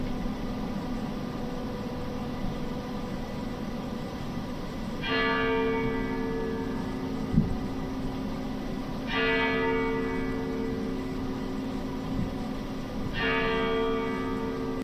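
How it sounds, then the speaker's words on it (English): Church bells toll in a city at night three slow times, each strike ringing out and decaying over a steady hiss of background noise, fairly distant. "That sounds just like the 11 p.m. church bells."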